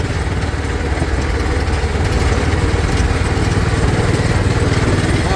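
A Mule off-road utility vehicle's engine runs steadily on a hot off-road park trail, a loud, close, continuous motor drone with no one speaking.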